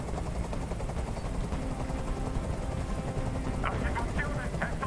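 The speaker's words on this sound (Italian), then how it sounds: "Questo rumore mi sta facendo impazzire. Digli di mandare via quell'elicottero." A helicopter hovers in the Detroit: Become Human video game, a constant low rotor thrum and rumble with sharper bursts of noise toward the end, heard under game dialogue.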